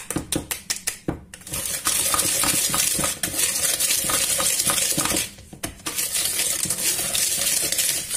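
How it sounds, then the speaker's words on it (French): Butter whisked by hand in a bowl gives fast, rhythmic metallic scraping and clinking of the whisk, loud and close, with short pauses between bursts; no voices. "plus je vais mélanger, plus mon beurre il va se réchauffer, il va descendre de mon fouet"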